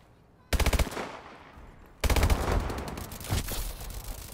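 Two loud, close bursts of rapid automatic gunfire from an AMR9 in a shooter video game, a short volley followed by a longer one with decaying echo.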